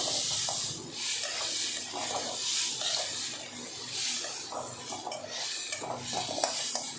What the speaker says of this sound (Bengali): আমি ডালটা ভাজছি সর্ষের তেল দিয়েই